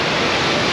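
Water rushes at Ushri Falls waterfall as a loud, steady broadband roar, close and unbroken for a brief moment with no voices.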